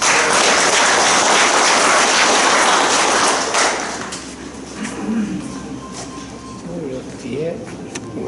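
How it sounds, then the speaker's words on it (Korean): Audience applause welcoming a guest lecturer at a Hapcheon Confucian school special lecture, a dense wash of clapping that fades after a few seconds into room noise and a voice. "큰 박수로 맞이해 주시기 바랍니다."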